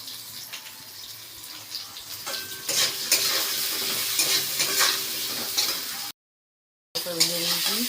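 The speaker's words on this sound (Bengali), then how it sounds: "আর একটু দিয়ে ভেজে নিচ্ছি সুজিটা ভালো" Semolina with turmeric fries in a pan while a utensil stirs and scrapes it, producing bursts of crackling sizzle; a short silent gap occurs before the stirring resumes.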